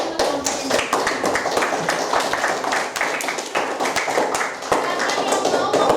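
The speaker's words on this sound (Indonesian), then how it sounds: "Dan beri tepuk tangan untuk kelompok ini." A classroom of students claps for a group after a fried-rice cooking presentation, quick irregular hand claps filling the room, fairly close, with some chatter mixed in.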